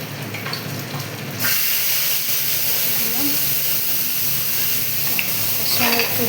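Spice paste hits hot oil and ghee in a pan with bay leaf, dried red chillies and whole cumin, bursting into a loud steady hiss and sizzle that runs on while someone talks.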